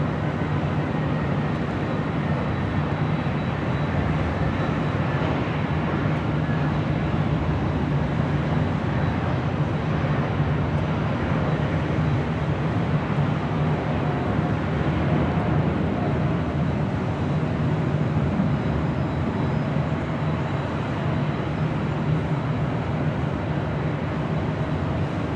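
A Cargolux Boeing 747 freighter at Los Angeles International rolls down runway 25 left for takeoff, its steady distant engine roar holding level throughout.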